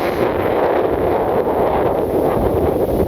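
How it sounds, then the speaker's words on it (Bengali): Strong wind blows through a village ahead of rain, a loud, continuous rushing roar buffeting the microphone with no pauses and no voices. "বাতাসে এত শান্তি, কতদিন পরে এরকম একটা বাতাস,"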